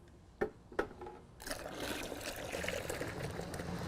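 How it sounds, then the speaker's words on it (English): Water poured from a container into a gallon of sealer concentrate to dilute it one to one, a steady splashing pour after a couple of sharp handling knocks. "So just pour that in."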